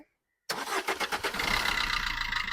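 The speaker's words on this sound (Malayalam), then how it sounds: "നല്ല ക്വാളിറ്റി എഞ്ചിൻ കേട്ടോ. അങ്ങനെ ഒന്ന് സ്റ്റാർട്ട് ചെയ്ത് നോക്കുകയാണെങ്കിൽ" After a moment of silence, a pre-owned Maruti Swift car engine cranks with a quick rhythmic churn, catches, and settles into a steady close idle.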